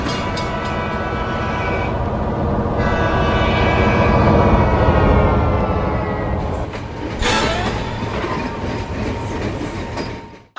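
Train passing close by on the tracks, a loud sustained rumble and clatter of rolling cars that swells and then eases, with higher screeching and tonal whines near the end.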